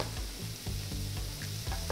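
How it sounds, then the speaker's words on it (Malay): Vegetables sizzle in a pot as two cups of water are poured in and stirred, a steady close hiss and bubbling with faint scraping, no voices. "Masukkan air dan gaul."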